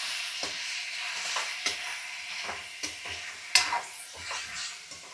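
Food stirred and sizzling in a hot pan during home cooking, with a steady frying hiss broken by repeated scraping strokes of a spoon against the pan, close and moderately loud.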